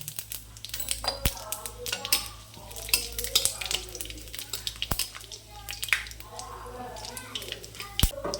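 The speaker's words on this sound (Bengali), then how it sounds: "ওই কড়াই এবার আমি সামান্য পরিমাণে সর্ষার তেল দিয়ে দেবো তারপরে দুটো শুকনো লঙ্কা দুটো তেজপাতা আর সামান্য পরিমাণে সম্বারে দিয়ে দেবো" Mustard oil tempering with dried chillies, bay leaves and spices crackles and sizzles in a kadai, with sharp spatula clinks against the pan, under someone talking throughout.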